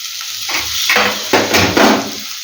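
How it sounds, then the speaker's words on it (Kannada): A handful of roasted gram tipped into masala frying in a pan for a farm-style chicken sambar: a brief scraping, rattling clatter with bursts of sizzle and stirring, close and fairly loud, with no talking. "ಈಗ ಉರ್ಗಡ್ಲೆ ಹಾಕ್ತಾಯಿದ್ದೀನಿ, ಸ್ವಲ್ಪ ಒಂದಿಷ್ಟು ಉರ್ಗಡ್ಲೆ ಹಾಕ್ತಾಯಿದ್ದೀನಿ"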